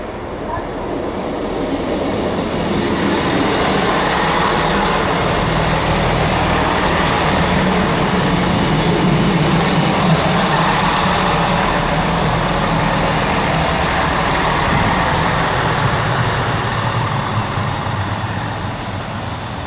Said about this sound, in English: 838 and 826 working the 1020 Transport for Wales service from Aberystwyth to Birmingham International